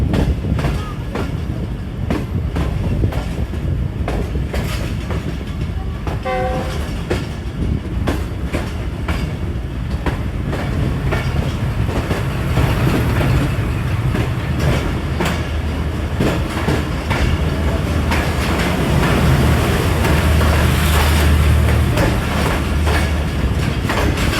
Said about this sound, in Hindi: ZCU20 6408, जो कि पेशावर से लेके आ रहा है जी और इसको लेके जाएगा जी लाहौर तक